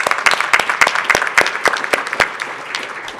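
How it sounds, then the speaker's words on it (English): Audience at a public forum for police chief finalists breaks into applause, a loose run of individual claps close by and fairly loud, with no one speaking over it. "would you raise your hand so we can give you your due round of applause?"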